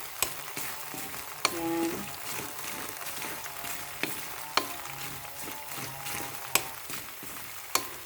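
Grated coconut fries in a pan as coconut oil renders out, giving a steady bubbling sizzle with periodic sharp clinks from stirring. Someone briefly speaks over it.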